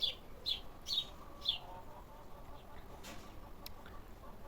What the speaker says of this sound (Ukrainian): Боже, який крикливий горобець попався.